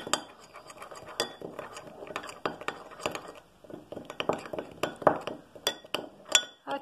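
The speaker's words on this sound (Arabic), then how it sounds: "نقوم بخلط هذه المكونات جيدا." Olive oil hair mask ingredients being mixed in a container, with a utensil clinking sharply and repeatedly against the sides in an irregular stirring rhythm, close and fairly quiet.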